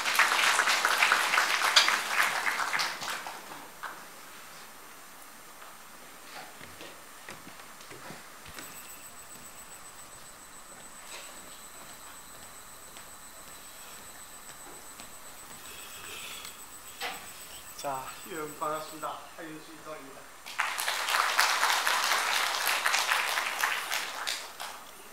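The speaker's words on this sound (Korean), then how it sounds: "큰 박수 부탁드리겠습니다." An audience at a Busan Metropolitan Office of Education ceremony applauds, welcoming the superintendent to give a greeting: a loud burst of dense clapping opens, a quieter stretch with faint rustling follows, then a second strong wave of applause closes.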